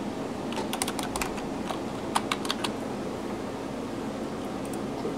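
Light rapid typing on a computer keyboard while entering a name during Windows setup on a Gateway Select 1000 desktop, soft clustered keystrokes in short bursts over steady background hiss, no speech.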